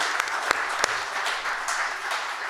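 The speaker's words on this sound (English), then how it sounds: "big round of applause for our moderated discussion" Audience at an AI debate breaking into applause, a steady dense wash of many hands clapping with a few sharper claps standing out, continuous throughout.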